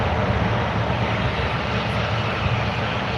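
A Qantas airliner touching down fills the air with a loud, steady jet engine roar, close and continuous, with no talking heard.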